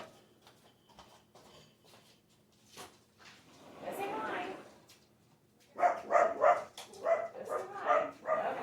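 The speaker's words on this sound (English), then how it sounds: "my neighbor's outside with her dogs and my dogs hear them" Several dogs bark outdoors, a faint, muffled scuffle at first, then a loud, close run of repeated barks and yips over the final seconds; a person speaks quietly early on.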